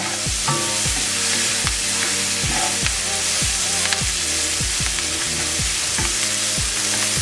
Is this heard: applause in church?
no